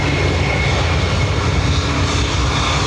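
A Qatar Airways Boeing 787 at Dublin Airport gives off a loud, steady, broadband engine roar, continuous and close with no pauses or talk.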